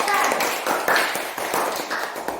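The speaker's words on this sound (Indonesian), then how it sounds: "Ya, tepuk tangan buat teman kita." A classroom of students claps for a classmate, a short burst of uneven, fairly close hand claps lasting a couple of seconds.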